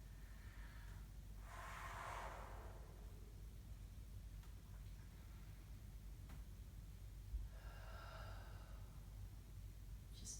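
Slow, deep yoga breaths with throat constriction, soft airy inhales and exhales rising and fading a few times over a quiet, hissy room background.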